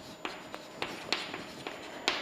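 Chalk or a marker taps and scratches on a board in a classroom, with about eight short strokes coming in an uneven rhythm, fairly faint and close, with no voice.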